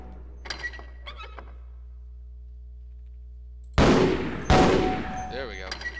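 A grenade launcher fires twice in Half-Life: Source during a training sequence, two sudden loud blasts each trailing off into rumbling decay after a quieter stretch with faint tones.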